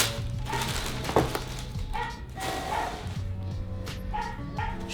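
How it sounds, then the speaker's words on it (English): A neighbor's dog barks and yips repeatedly at a moderate distance, with irregular short barks over a low background rumble. "sorry about the dog next door."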